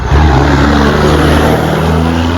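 A truck with a loud aftermarket exhaust revs up close, its deep, steady engine rumble holding strong and unbroken for a couple of seconds with no talk over it.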